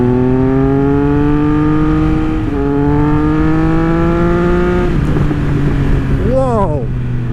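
A Triumph Speed Triple 1200 RS motorcycle accelerating hard on a road, the engine note climbing in pitch through two gear changes, loud and close, with a brief shout near the end.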